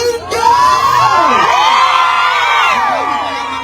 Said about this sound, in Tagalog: Isang hiyawan mga single!